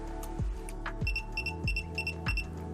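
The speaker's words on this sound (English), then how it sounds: "So that sound you're hearing there is path to ground." An ANCEL PB600 power probe circuit tester beeps quickly to signal a path to ground, sounding a string of short, evenly spaced electronic tones at moderate volume over a low steady hum, with no talking.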